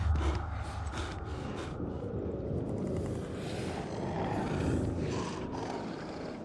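Volatile creatures breathe in a nest in the video game Dying Light 2, a steady loud mass of rasping, snorting and growling breaths that swells and fades without pause.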